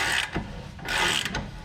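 A wrench turns a press tool to drive a rear wheel bearing into the hub of a 2001 BMW 325Ci, giving two close bursts of metallic ratcheting clicks and grinding with no talk.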